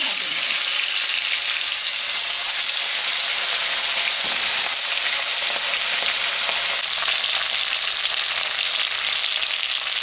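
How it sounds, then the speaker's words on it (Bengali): Fish seasoned with salt and turmeric frying in mustard oil, a loud, dense, continuous crackling sizzle close up that never lets up. "মাছটা ভাজা হয়ে গেছে।"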